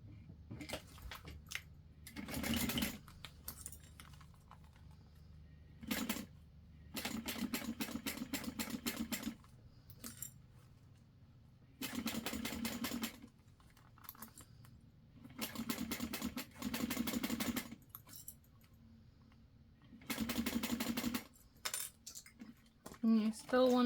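A sewing machine stitches along a zipper in several short bursts of rapid mechanical whirring, separated by quiet pauses as the work is adjusted, recorded up close.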